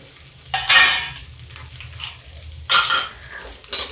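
Onion dropped into hot oil with hing in a pan for kadhi, sizzling in three sharp bursts with stirring scrapes between them, close and fairly loud.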